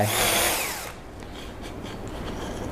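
A power drill whines loudly at high speed for under a second as it bores a hole, then drops away to a quiet, low-level background hiss.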